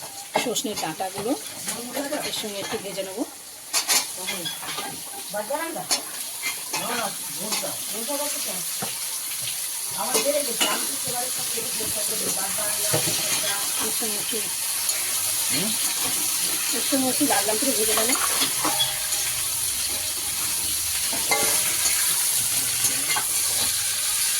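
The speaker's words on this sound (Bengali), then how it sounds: "আলুগুলো লাল লাল করে ভাজা হয়ে গেছে" Potatoes fry in a pan for a poppy-seed dish with vegetable stalks, a steady sizzle under frequent scraping stirs, while a person talks over the cooking throughout.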